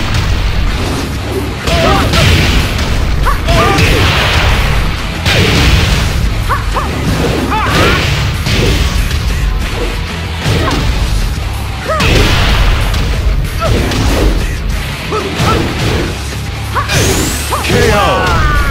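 Tekken 6 fighting-game combat on an emulator: a dense, loud run of punches, kicks, whooshes and crashing impacts with game voice shouts mixed in, continuing without letup through the round.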